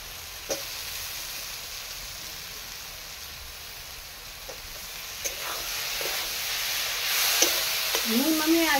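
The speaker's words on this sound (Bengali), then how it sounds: "আমি এখন জল টিপে টিপে সোয়াবিনগুলো দিয়ে দিল।" Soybean chunks, soaked in hot water and squeezed dry, go into a pan of cooked-down spice paste and fry with a steady, soft sizzling hiss, broken by a few faint clinks from the utensil.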